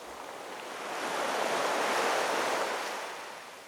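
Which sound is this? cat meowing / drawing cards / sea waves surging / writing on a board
sea waves surging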